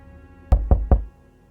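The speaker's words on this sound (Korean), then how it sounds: "하지만 뜻밖에도 문을 두드리기 시작했습니다." Three quick, heavy knocks on a door sound close and loud in an even rhythm, a horror radio drama sound effect set against near silence.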